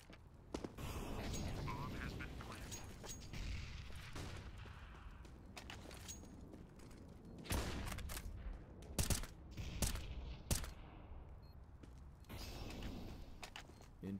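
Rapid bursts of gunfire crackle through a Counter-Strike match on the Overpass map at a CIS esports tournament, sharp volleys clustering around the middle and end, with continuous excited commentary running underneath.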